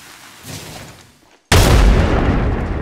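A frag grenade detonates in the Apex Legends Mobile video game, a sudden loud, full-bodied blast that cuts in after a brief lull and rumbles on, following quieter game noise.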